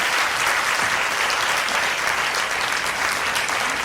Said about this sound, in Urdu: بہت بھرپور تالیاں, یہ کافی نہیں ہے